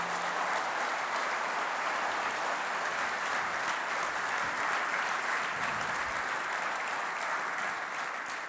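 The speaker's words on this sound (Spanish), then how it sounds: "yo les estoy pidiendo un fuerte aplauso a todo ese equipo de gente" Sustained, dense applause from a conference audience at a 2014 technology congress, loud and steady throughout with no pause, fading slightly at the end.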